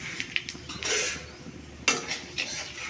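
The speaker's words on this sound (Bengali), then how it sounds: "দিয়ে ভালো করে নাড়ব।" Dried red chillies, cumin and bay leaf being stirred in hot oil in a pan: soft scraping and clinking of a utensil against the pan in short irregular strokes over a faint sizzle.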